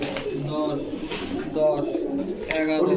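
Pigeons for sale at a market, including female birds, coo in repeated throaty bursts close by while people talk over them.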